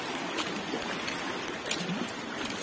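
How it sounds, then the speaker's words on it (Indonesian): Water flowing steadily at a quiet grave site, a soft continuous rushing wash with faint splashy flickers, heard alone without talk. "sangat tenang dengan suara air mengalir"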